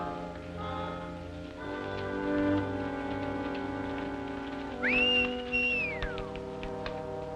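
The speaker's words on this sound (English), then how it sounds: "Stop whistling for that horse." A person whistles for a horse in a western film: one loud whistle that slides up, holds, then drops away, over soft orchestral music and a faint patter.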